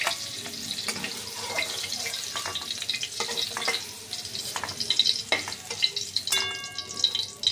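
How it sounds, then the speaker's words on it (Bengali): Sliced banana stem and potatoes frying in hot oil in a Bengali home kitchen, a steady close sizzle with scattered crackles and the occasional scrape of stirring, with no talk. "এই তেলের মধ্যেই এই আলুগুলো ভেজে নেব।"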